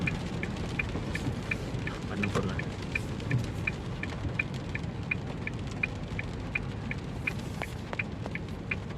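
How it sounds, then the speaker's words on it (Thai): Steady patter of rain on a 2022 Mu-X 1.9, a dense even hiss with a faint regular ticking, like a turn signal, sounding through it. "ฝนตกด้วยนะครับวันนี้"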